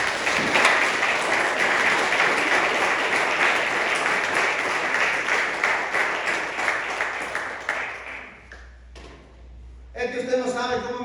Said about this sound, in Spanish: Denle un aplauso fuerte, Señor.